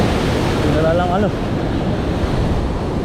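Ocean waves wash and break continuously against rocks along a shore during fishing, with steady wind noise buffeting the microphone.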